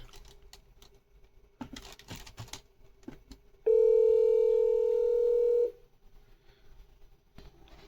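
A call rings through on a Grandstream PBX extension connected to an analog line. A loud, steady electronic tone sounds for about two seconds after some clicks and keypresses, then the line goes quiet.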